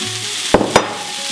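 Unpeeled garlic cloves dropped into a hot, sizzling pan for a simple roast chicken with forty cloves of garlic, two sharp clatters over a steady close frying sizzle.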